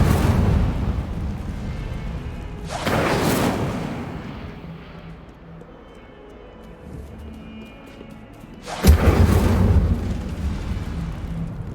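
Incendio fire spell cast in the video game Hogwarts Legacy, a sudden whooshing burst of flame that flares twice, the second louder with a heavy low thump, separated by a quieter rumbling lull.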